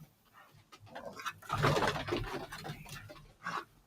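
A pet dog, Bella or Zeus, pants indoors in quick, breathy bursts that swell loudest midway before easing off, with softer snuffling at the start and end.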